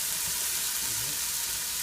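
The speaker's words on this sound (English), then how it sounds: "so you're going to get these sautéing." White button mushrooms sauté in a pan with a steady, close sizzle and frying crackle that holds evenly throughout, with no talking.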